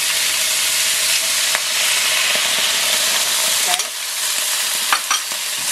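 Sweet chili sauce poured over crab in a hot pan, giving a loud, steady sizzle and frying hiss with a few clinks and stirring scrapes near the end.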